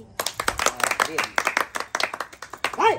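Hands clap in quick, irregular bursts, sharp and close, mixed with people's voices talking and calling out over them.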